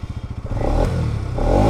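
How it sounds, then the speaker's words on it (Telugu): A Bajaj Pulsar NS200 (2021) motorcycle engine starting up: a brief rapid cranking chatter, then the engine catches into a steady, close idle rumble. "సో వెహికల్ అయితే ఆన్ చేద్దాం ఫస్ట్."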